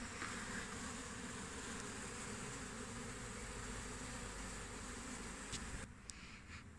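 Honeybees at beehives fitted with DIY hive scales make a dense, continuous buzzing hum throughout, close and steady, then grow slightly quieter near the end.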